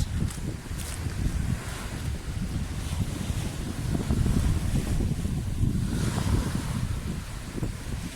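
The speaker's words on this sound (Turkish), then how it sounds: "Gelin dalganın sesini dinleyelim beraber." Waves wash continuously onto the shore in a broad rushing roar, with gusty wind buffeting the microphone throughout and no voices.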